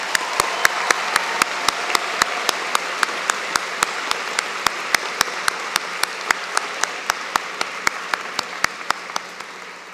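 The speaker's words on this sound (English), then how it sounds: "Let's have another round of applause for our student award winner." Applause at a college convocation carries on for several seconds, a wash of clapping marked by sharp, evenly spaced claps.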